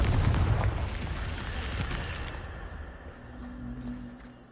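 A Confringo spell detonates in Hogwarts Legacy with a heavy, booming blast up front whose rumbling roar slowly fades over several seconds, with faint game tones trailing at the end.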